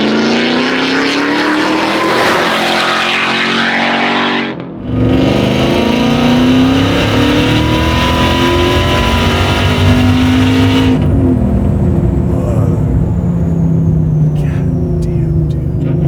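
A 1,300-horsepower custom widebody Dodge TRX engine roars loudly and continuously, revving hard with a brief drop around a shift before surging again, then settling to a lower rumble.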